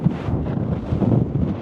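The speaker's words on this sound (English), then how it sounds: "the vast open sea is getting incredibly windy right now" Strong wind over the open sea buffets the microphone in a continuous, heavy low roar with gusty surges, close and loud.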